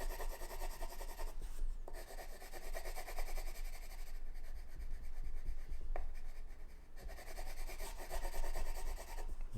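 A pencil roughing in dark shading on paper while drawing rock forms, a steady close scratchy rubbing that runs continuously with brief pauses and changes of stroke.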